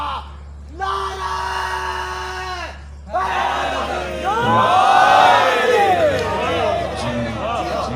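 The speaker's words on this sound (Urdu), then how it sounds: "دونوں ہاتھ بلند کر کے پوری طاقت سے نعرے کا جواب دے گا" At a Safar majlis held at Zainabiya Imambargah, a large crowd roars a loud, sustained slogan response in unison, with a strong bellowing chant that swells midway and carries on over a steady low hum.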